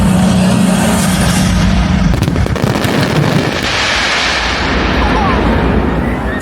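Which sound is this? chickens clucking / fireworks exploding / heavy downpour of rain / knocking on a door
fireworks exploding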